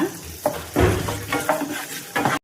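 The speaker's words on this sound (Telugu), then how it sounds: "శనగిత్తనాలు కొంచెం వేయించుకుందాం బాగా" Dal and cumin seeds fry in a pan, giving a close sizzle with a few scraping stirs and spoon clinks in short bursts, and the sound cuts off sharply at the end.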